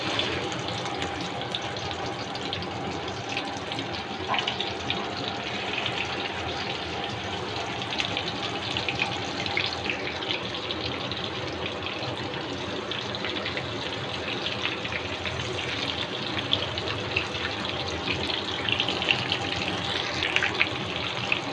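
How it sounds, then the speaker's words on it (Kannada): Marinated chicken kabab pieces frying in oil in a pan over medium flame, giving a steady, continuous sizzle and hiss close up with no talking. "ಆ ಚಿಕನನ್ನು ನಾವು ಆಯಿಲ್ ಒಳಗೆ ಹಾಕೋತಾ ಇದ್ದೀನಿ"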